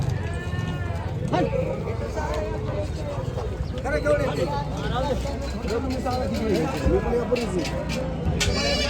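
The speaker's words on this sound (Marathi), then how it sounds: "इकडं पण या सगळ्या शेळ्या आहेत" Several goats bleat repeatedly against a busy crowd murmur at a large livestock market in Maharashtra, with people talking throughout.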